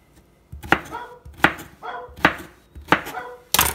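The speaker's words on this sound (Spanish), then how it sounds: "También vas a cortar las calabacitas verdes." Green zucchini (calabacitas) being cut with a knife on a board, five distinct chops spaced roughly evenly, close and crisp, with quiet gaps between strokes.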